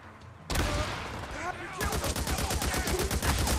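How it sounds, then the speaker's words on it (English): Heavy gunfire and explosive blasts from the Days Gone video game, a dense burst of rapid shots and booms with a loud crack partway through, continuing rapidly to the end. "Let's just use a frag grenade"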